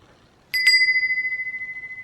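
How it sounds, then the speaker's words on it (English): A single hand bell is struck twice in quick succession, then its bright metallic tone rings on alone, slowly decaying with a gentle wavering shimmer. "So that is what our bell looks like."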